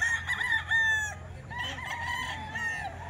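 Bull stag roosters crow at a market, with several long, shrill crows close by and overlapping. Clucking and a faint low background hum run underneath.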